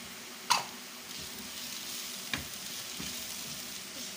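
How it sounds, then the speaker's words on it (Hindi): Finely chopped green chillies sizzle gently in a hot pan, a steady soft frying hiss with a couple of brief stirring knocks. "इसको हल्का सा भून लेंगे।"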